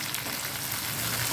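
Soft, steady sizzling of tomatoes sautéing in a pan, a continuous crackle without voices.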